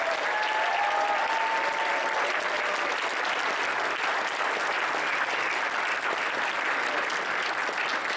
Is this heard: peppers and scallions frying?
no